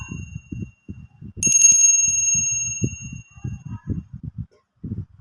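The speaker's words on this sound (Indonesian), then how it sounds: "Kita akan memulai dengan lonceng tanda berbunyi ya." A bicycle-style bell rings with a bright sustained chime that slowly fades, while a person talks before, during, and after it.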